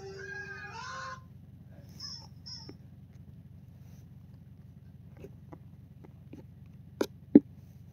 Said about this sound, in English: He attached the chicken to the vacuum.